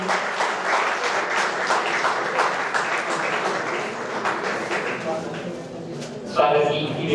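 A law college audience claps loudly and steadily to welcome guests onto a stage, a dense sustained applause with a voice speaking through it near the end.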